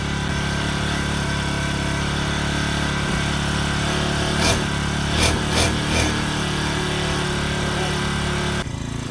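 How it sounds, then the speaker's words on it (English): Small X-PRO 40cc four-wheeler engine idling after its very first start, a steady buzzy putter that stays even throughout, with a few brief sharp blips near the middle and a sudden drop at the end. "It should probably idle just a little bit above this."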